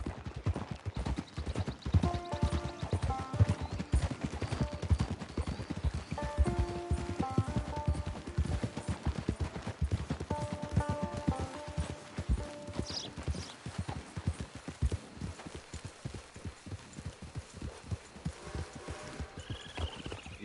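Several horses plod along a trail toward a camp, a dense continuous patter of hoof clops close by, with intermittent music-like tones and a brief whinny-like cry in the mix.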